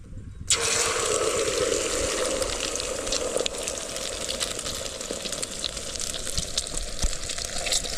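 A steady, loud sizzle starts abruptly as liquid egg hits a hot pan and keeps crackling evenly throughout.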